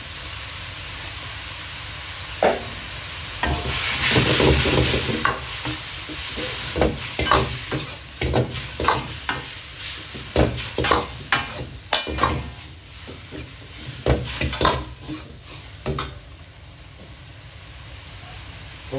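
Thai glass noodles, 80 grams, stir-fried in a pan with minced pork and bamboo shoots for a basil stir-fry, giving loud steady sizzling and hissing with repeated scraping stir strokes, up close.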